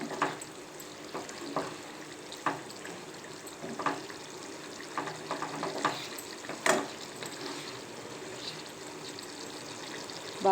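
Jackfruit curry being stirred gently in a pan, with a soft continuous sizzle and scattered light scraping and clinking strokes spread across the whole stretch, fairly quiet and close, with no voices.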